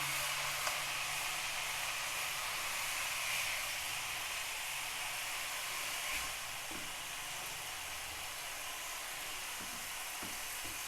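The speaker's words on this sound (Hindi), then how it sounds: "अब इसी घी के अंदर मैं ये चिकन डाल रही हूँ।" Chicken frying in ghee over medium heat gives a steady, broad sizzle and hiss that stays loud and even throughout, with no talking.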